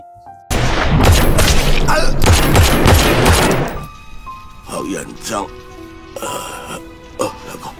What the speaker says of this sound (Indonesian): Jai pasang badan untuk melindungi Li dan langsung menembak Tong hingga tewas.